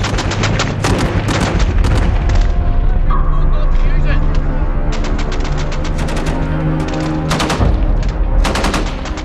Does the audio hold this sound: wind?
no